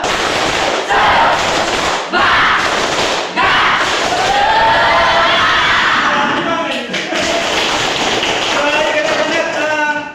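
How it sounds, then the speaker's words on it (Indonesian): A class of Grade 9 junior high students claps in a rhythmic chant, loud close bursts of patterned claps and shouted voices that stop and restart several times. "Tepuk semangat."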